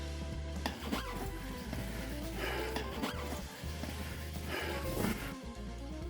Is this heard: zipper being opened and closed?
yes